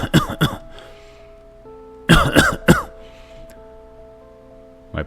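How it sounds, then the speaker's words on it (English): A man coughs in two harsh, hacking bursts separated by a pause, with quiet sustained music tones underneath, as in a dramatized reading of Poe's The Cask of Amontillado. "How long have you had that cough?"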